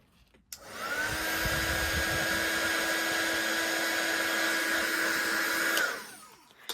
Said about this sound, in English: move your heat gun to the next part of the image because it's essentially done